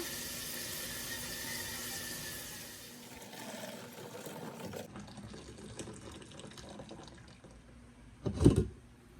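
Water from cooked pasta for a meat lasagna runs and splashes steadily into a sink for several seconds, fades, then a loud brief gush or clatter near the end.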